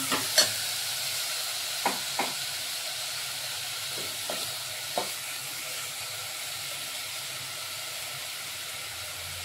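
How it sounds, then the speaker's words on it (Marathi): Chopped onion for pav bhaji fries in butter and oil, a faint, steady hiss with a handful of light spoon taps early on, heard close and quiet with no talking. "आणि त्याच्यामध्ये आपण कांदा घालणार आहोत।"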